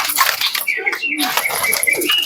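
Andra pigeons at a pigeon sale give soft coos and calls, mixed with people talking close by throughout.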